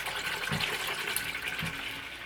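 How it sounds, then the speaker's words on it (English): Homemade lavender lemonade, sweetened with lemon juice, pours steadily into a cup in a home kitchen, a continuous bright liquid splash close by with a couple of soft low knocks, no talking. "I'm going to pour a little sample and see what it tastes like without refrigerating yet"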